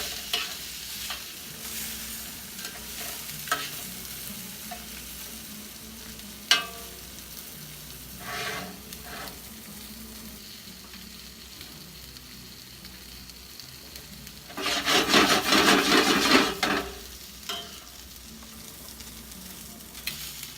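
Paella being stirred in an 18-inch pan over two gas burners, with a steady sizzle of frying rice and scraping stir strokes, swelling into a louder burst of sizzling and stirring midway before settling back.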